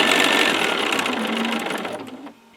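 Steady, close whirring of a sewing machine stitching around fabric needle-book pages, running loud and even before slowing and stopping near the end.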